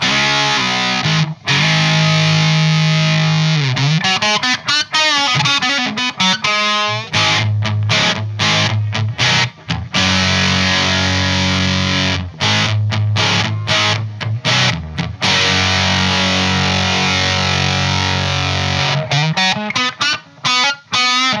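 Electric guitar played through a Way Huge Swollen Pickle fuzz pedal, a loud, thick distorted tone with sustained chords and choppy riffs broken by short pauses, continuing without talk.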